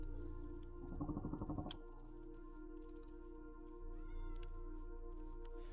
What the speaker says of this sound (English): Are those Jurassic period cats?